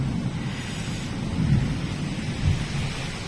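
Thunder rumbles low during a night rainstorm, with two deeper swells rising out of a steady wash of rain noise, sounding fairly distant and muffled.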